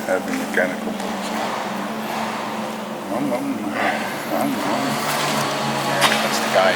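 A lawn mower cutting grass outside an abandoned power station hums steadily at a distance, its engine drone rising slightly toward the end.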